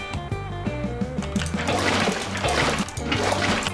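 Water poured from a bucket in Minecraft splashes and trickles continuously over a steady game music backdrop, a soft, even liquid wash lasting several seconds.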